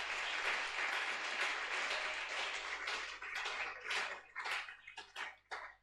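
A church congregation bursts into loud, sustained applause, dense clapping that rises and then breaks into scattered, thinning claps as it dies away.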